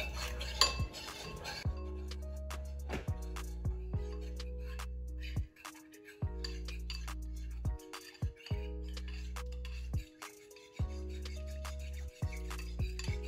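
A utensil scrapes and clinks repeatedly against a bowl while a cornstarch mixture for sweet and sour chicken is stirred, a steady low churning broken by sharp taps every second or so, close and fairly loud with no talking.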